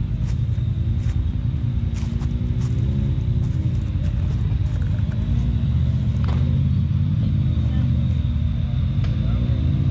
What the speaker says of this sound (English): Big rocks drive over.